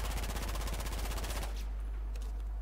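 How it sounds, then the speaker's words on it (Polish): A FAMAS rifle fired from the hip in Battlefield 4 rattles off a fast, evenly spaced burst of loud shots for about a second and a half, then cuts off, leaving faint echoing tails over a steady low hum. "Będziemy strzelać z biodra i zobaczymy, jakie ta broń ma skupienie."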